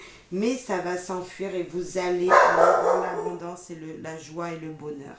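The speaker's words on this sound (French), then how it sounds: "Je suis désolée pour mon chien qui aboie." A pet dog barking indoors, several loud close yapping barks in quick bursts heard beneath and between someone speaking French.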